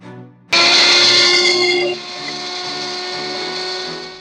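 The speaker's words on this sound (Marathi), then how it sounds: "आपण आता मिरची, आलं आणि लसूण आणि थोडीशी कोथिंबीर मिक्सर मध्ये बारीक करून घेऊ" A mixer grinder blitzes green chilli, ginger, garlic and coriander. The motor kicks on suddenly with a loud, high whine, then settles into a steadier, slightly lower grinding drone until the end.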